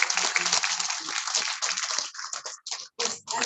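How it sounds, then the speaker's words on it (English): An audience gives a round of applause, a burst of dense clapping that thins out and breaks into scattered claps before fading, heard alone without talk. "Can we have a round of applause for the coming?"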